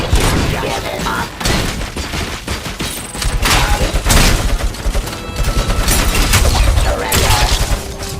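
Gunfire in Robocop Rogue City comes as heavy, loud bursts of repeated shots with booming impacts and clattering debris, dense and close throughout.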